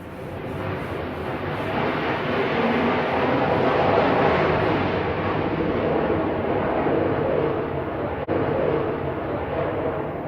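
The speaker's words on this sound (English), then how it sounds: "Sorry about that loud noise. There's an air show going on." A loud, sustained jet roar from an air show rumbles broadly overhead, swelling and holding steady with a broad rushing noise and no voices.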